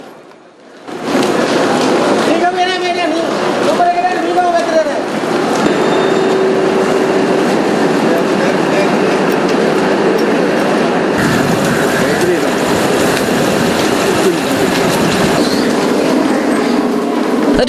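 Train running on rails, a broadband rumble with rail clatter and squealing tones that holds steady at close range, with voices briefly over it.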